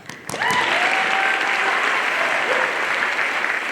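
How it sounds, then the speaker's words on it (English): A school recognition-day audience bursts into applause for a ninth-grade citizenship award winner, a dense, loud, sustained wash of clapping that starts abruptly after a brief pause and continues steadily. "You clap."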